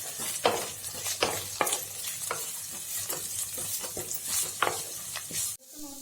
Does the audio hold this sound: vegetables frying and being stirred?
yes